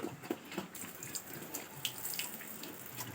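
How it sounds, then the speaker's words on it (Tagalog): A small amount of water is poured, giving a faint, splashy trickle with soft drips and gurgles that runs steadily for a few seconds, without talk. "Lagyan natin ng kunting tubig guys"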